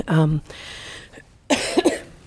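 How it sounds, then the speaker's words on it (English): A single loud cough stands out near the start, followed by quiet room tone and then a person beginning to speak. "I'll try not to be too obnoxious in my coughing"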